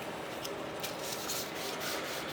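Soft, steady rubbing of 600 grit wet sandpaper across a 1975 Chicago Coin Top Ten pinball playfield, with faint repeated strokes and no talking.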